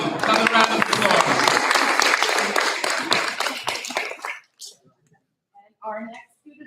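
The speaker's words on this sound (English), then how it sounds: "Another round of applause." Applause at a school board meeting honoring students of the month, loud and dense for about four seconds before stopping abruptly, followed by a few faint noises and a brief murmur of voices.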